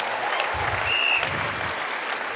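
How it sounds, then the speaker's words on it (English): An audience at a Turning Point Action 2023 event gives a speaker a round of applause, dense steady clapping throughout with a few louder low thumps. "How about a round of applause for Tucker Carlson for being here and doing this, everybody?"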